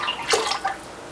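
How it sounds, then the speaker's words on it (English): Essential oil blend pours into soap-making oils for eucalyptus mint shampoo bars, a brief soft liquid trickle lasting under a second, close and fairly quiet with no talk. "Then we're going to add our essential oil blend into our oils."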